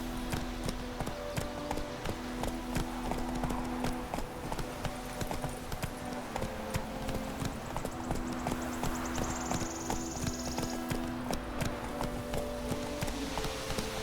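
Hoofbeats of Roach, Geralt's horse in The Witcher 3, galloping in a steady rapid clip-clop rhythm across the whole stretch, moderately loud over a low game ambience and faint music, with no talking.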